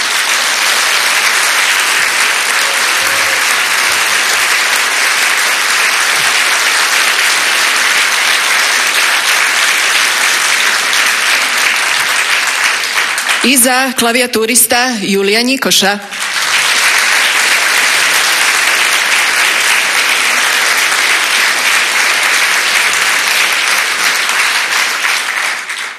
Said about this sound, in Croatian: Nakon orkestra, molim pljesak za dirigenta